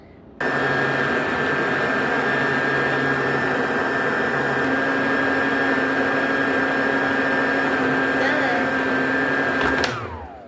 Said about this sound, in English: I might like to go under the dryer.